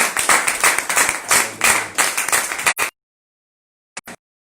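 A church congregation applauds the Lord with loud, rapid clapping for almost three seconds before it cuts to silence, followed by a couple of brief, faint bursts.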